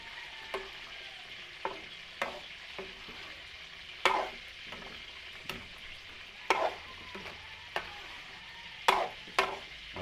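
A pot of cheesy beef caldereta with bay leaves and aromatics is stirred over a steady low sizzle, with repeated ladle scrapes and knocks against the metal at irregular intervals, close by and without speech.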